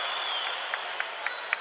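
A steady murmur from a basketball arena crowd at a FIBA AmeriCup game fills the space as fans react to a three-point attempt, with a few faint claps or knocks rising briefly above the hum.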